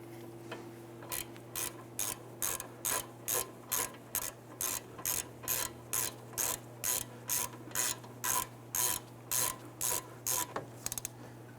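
Ratchet wrench snugging down front brake caliper bolts on a 2005-2010 Chrysler 300, a long run of evenly spaced crisp clicks in steady rhythm, close and clear over a low hum.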